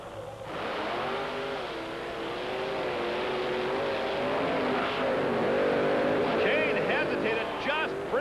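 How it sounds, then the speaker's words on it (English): A 1950 Chevy panel wagon and a Chevrolet-powered Ford run down a drag strip, engines roaring and rising in pitch as they accelerate away, loud and sustained throughout under an announcer's commentary. "we have Gravedigger Dennis Anderson in that 1950 Chevy panel wagon against the 4-year-old King Kong, the Ford with Chevrolet power"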